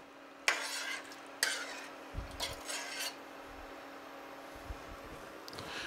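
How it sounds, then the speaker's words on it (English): Egg dish being stirred in a pan for an Italian egg breakfast: a few distinct scraping strokes of utensil against pan, fairly close, with softer rubbing in between and quiet pauses. "And we want to stir this, all right?"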